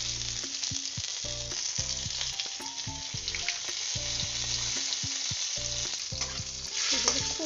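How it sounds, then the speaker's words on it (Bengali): Dried red chillies, bay leaf and nigella seeds spit and sizzle in hot oil for a Bengali dish, a steady close frying hiss with scattered crackles and light stirring clinks throughout. "এবার আমি দিয়ে দিলাম শুকনো লঙ্কা ফোড়ন, আর দিয়ে দিলাম তেজপাতা, আর একটু দেবো কালো জিরে।"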